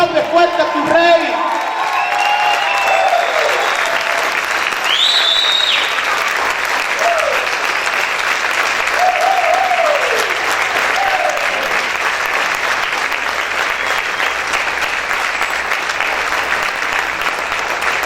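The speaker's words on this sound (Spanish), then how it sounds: "Grita y aplaude fuerte a tu Rey." A church congregation applauds and shouts in praise, loud continuous clapping with raised voices and whoops rising over it early on, then settling into a steady roar of hands.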